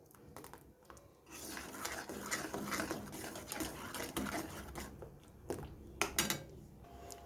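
A utensil stirs a sweetened mango mixture in a pan, making soft, irregular scraping and clinking taps that come in uneven bursts, fairly faint and close, with no voices.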